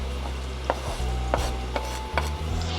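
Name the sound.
onion and garlic frying in olive oil in a frying pan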